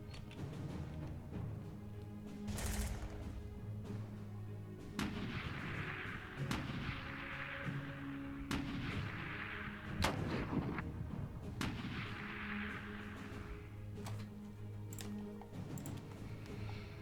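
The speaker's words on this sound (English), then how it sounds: "Artillery." Artillery fire in the wargame Klotzen Panzer Battles, set in the 1938 Aragon Offensive: a series of sharp booming blasts at irregular intervals, each with a rumbling tail, over a low background hum.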